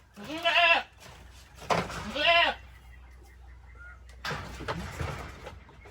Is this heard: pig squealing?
yes